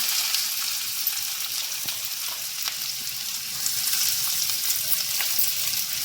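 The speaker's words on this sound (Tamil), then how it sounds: "சீரகம் ஆட் பண்ணிவிட்டு ஆனியன் போட்டுக்கலாம்." Onion sautéing in hot oil with mustard seeds and cumin, giving a dense, continuous close-up sizzle with faint scattered crackles and a few light stirring scrapes, and no voices.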